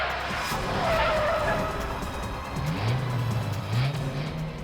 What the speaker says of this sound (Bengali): গাড়ি ঘোরাও